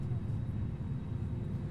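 An Airbus A330-900 engine spools up in Microsoft Flight Simulator, a steady dense low rumble with a faint higher whine, holding even and loud throughout.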